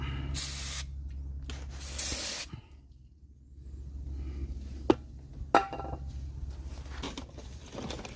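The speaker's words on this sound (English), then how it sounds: "spray brake cleaner on here, this side, and on the top" Two short, close hissing bursts of brake cleaner from an aerosol can onto an Acura MDX front brake part during a pad replacement, followed by quiet clinks and handling sounds.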